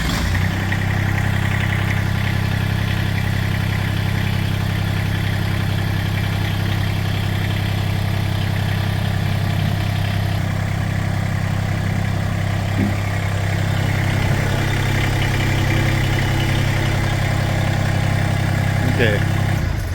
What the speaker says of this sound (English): we're going to do this with the hydraulics still hooked up, and we use the hydraulics to actually make that happen